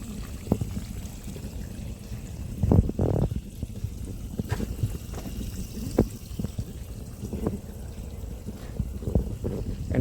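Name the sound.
water flowing into the base of coconut trees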